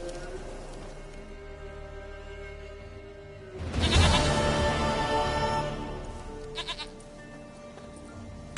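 A goat bleats in The Witcher 3, its cry swelling loud and close around the midpoint over ambient game sound, followed by a couple of short, softer bleats.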